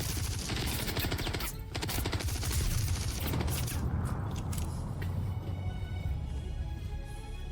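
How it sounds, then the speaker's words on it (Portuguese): Rapid, continuous automatic weapon fire from a Star Citizen gun, loud and dense bursts running almost the full length with little pause and no talk. "Olha, que barulho que essa arma faz, velho."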